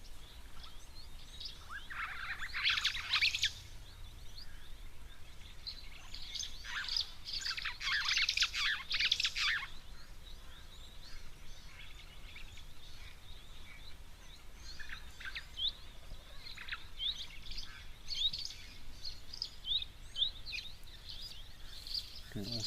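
Small firefinches chirp and twitter in bursts around a waterhole, high thin calls clustered early and fading into scattered notes, with a steady outdoor background hum beneath.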